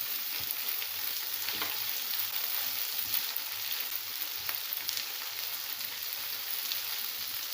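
Onion and ginger-garlic paste frying in a pan make a dense, steady crackling sizzle, close and even throughout, with no talking.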